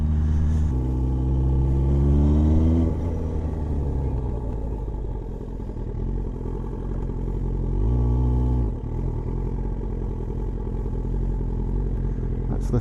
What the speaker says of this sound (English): That's the sounds of race bike